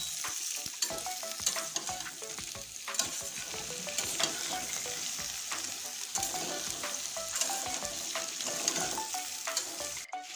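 Mixed vegetables sautéing and being stirred in a pan for a vegetarian five-vegetable dish, a continuous close sizzle with frequent scraping and clinking strokes throughout.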